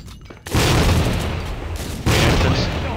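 A grenade blast in the Tactical Ops shooter game: two heavy, close explosions about one and a half seconds apart, each leaving a long rumbling tail.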